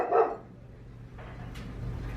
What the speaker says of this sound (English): he was just barking